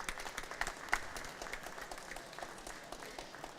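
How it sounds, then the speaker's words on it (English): Applause from an audience at an exhibition opening and open debate, steady light clapping through the whole stretch with a slightly louder burst near the start, moderately distant and fairly soft. "big round of applause."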